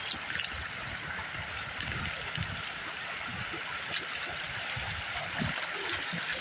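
Water rushes steadily through a gold prospecting sluice box, a constant close-up babbling flow with splashy gurgles and no voices.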